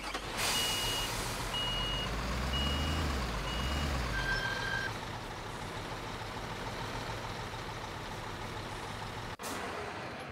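A truck in the Bau Simulator construction game moves away. It gives off steady, evenly spaced reversing beeps over a low engine rumble, then a hiss like an air brake releasing. The engine noise carries on evenly with a brief dropout near the end.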